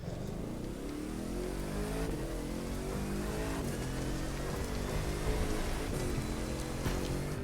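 Car engine in The Crew 2 racing game, a steady droning hum with shifting revs under a hiss like rain or road noise, continuous and moderately loud with no talking.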